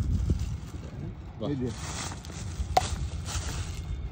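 A tomato is cut outdoors in a farm vegetable garden, with a single sharp snip rising briefly out of wind rumble while people talk nearby.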